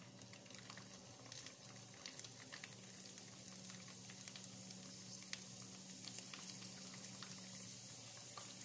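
Camel liver being fried in a pan on a stove, giving a soft, steady sizzle with faint crackles throughout, quiet and close by with no talking.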